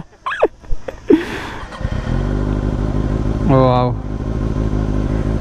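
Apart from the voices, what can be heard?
Kawasaki ZX-6R 600cc sport motorcycle engine riding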